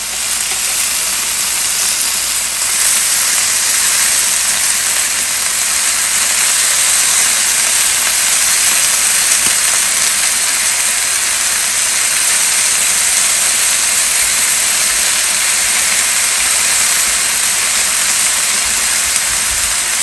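Turkish-style chicken kebab skewers on a hot grill give a loud, steady hiss and sizzle that runs unbroken and close throughout, with no voices over it.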